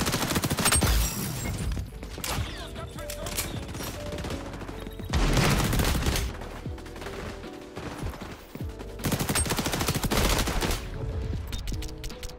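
Dense automatic gunfire in a first-person shooter video game rattles in rapid bursts, with heavy clusters of shots separated by brief lulls, loud and close throughout.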